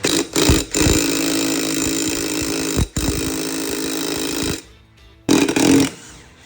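A larger DeWalt power tool roars loudly and close up while removing a bolt from a Honda Element, running in sustained bursts with brief stops and a final short burst.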